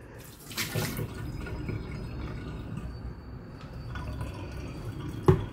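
Water runs from a tap in an Airbnb during a housekeeping water test, a soft steady trickle and splash with a few drips and a brief clatter near the end.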